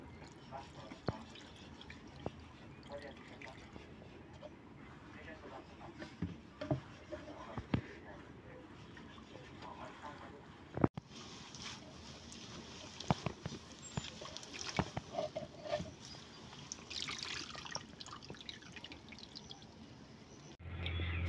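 Fresh sajiwan (drumstick) leaves are rinsed by hand in water, with steady splashing, dripping and pouring close by that grows busier and louder in the second half.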